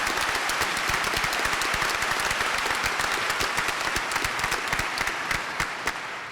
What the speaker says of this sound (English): How about a round of applause for Henry Brown?